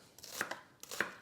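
A knife dices a peeled, rinsed vegetable on a cutting board for a hearty meatball stew, giving two quick pairs of crisp, close chops with short pauses between them and no voices.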